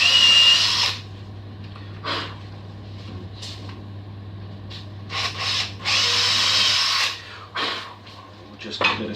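Power drill driving screws into wood while building a coat rack, several loud whirring bursts of varied length, close by, separated by quieter pauses with faint breathing.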